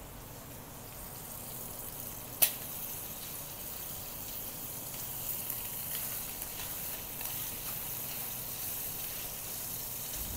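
Chicken steak frying in a pan, a steady faint hissing sizzle throughout with one sharp pop near the start.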